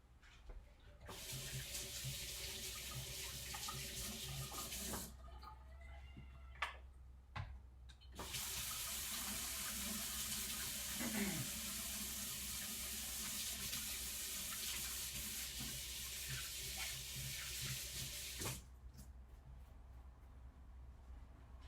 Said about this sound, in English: let's go wash your hands.